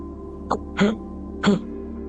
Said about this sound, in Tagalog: Umubo-ubo ng sunod-sunod